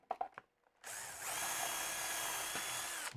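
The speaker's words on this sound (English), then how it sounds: "I've got to run that drill down the center of that." A power drill bores down the center of a piece of wood in a workshop, whining loud and steady for about two seconds after a few faint knocks.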